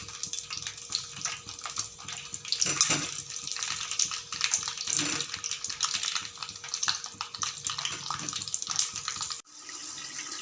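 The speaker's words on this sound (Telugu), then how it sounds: "వంకాయలను ఇలా వేసుకొని డీప్ ఫ్రై చేసుకోవాలి" Brinjals deep frying in oil give a dense, continuous bubbling sizzle close by, with a few louder crackling surges, before the sound cuts abruptly near the end.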